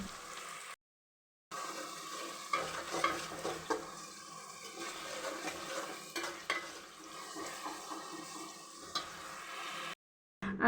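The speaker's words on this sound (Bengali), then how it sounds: "এখন মশলাটাকে খুব ভালোভাবে কষিয়ে নিব" Onion paste with ground and paste spices frying and being stirred in a pan for a Bengali beef curry with nihari masala, a steady sizzle with scraping stirs throughout, brief silent gaps at the start and end.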